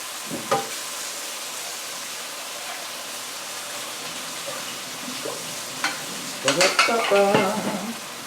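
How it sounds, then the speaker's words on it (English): Zucchini and tomato are stir-fried in a pan, giving a steady background sizzle broken by occasional clacks of the utensil. Louder clattering and scraping bursts come near the end. "stir fry. It's almost ready."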